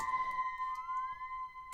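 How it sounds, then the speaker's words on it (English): Electronic tones with a synthetic riser gliding steadily upward like a siren, never falling back, ending in a short click. "this kind of upwards riser that sounds almost like a siren, but it's only going upwards"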